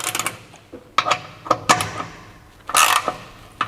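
Bolts being snugged up on a transfer box skid plate under a Mitsubishi L200, where a broken weld is nearby: close, irregular metallic clicks and ratchet-like bursts, with a louder rasping burst near the end.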